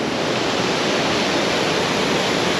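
Water thunders steadily at the foot of the tallest waterfall in North America, in California: a loud, continuous, broadband roar with no breaks and no voices.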